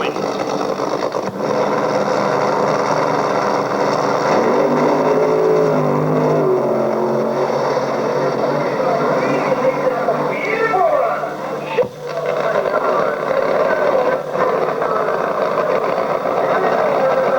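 A funny car drag racer making a solo run down the strip at Santa Pod in 1975-76, a loud, sustained engine roar heard from a distance that holds steady and then fades near the end.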